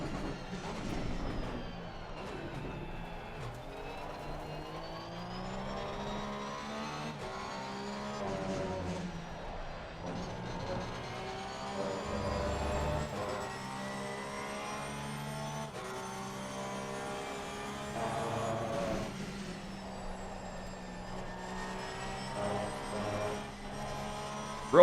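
A Porsche engine drives through a corner on a race track, heard from inside as a continuous drone whose pitch swells and dips with the throttle, with no talk.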